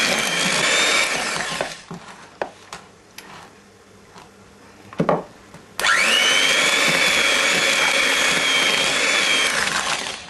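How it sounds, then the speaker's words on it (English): An electric mixer beats cake batter in a kitchen. Its loud, steady whine runs at the start, cuts out for a few seconds of quieter clatter, then starts again and holds steady to the end. "you really do need one of those electric mixers if you're serious about cake making"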